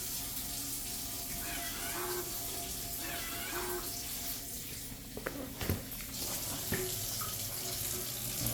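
Warm water runs steadily from a tap for hand washing before sterile wound care, a faint continuous stream with occasional knocks and clatter, and a cat meows softly in the background.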